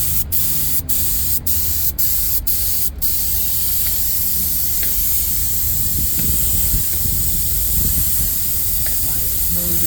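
Spray gun applying base coat over repair compound on a 2019 Nissan Altima seat: several short hissing bursts in quick succession, then quieter steady hiss with faint background noise.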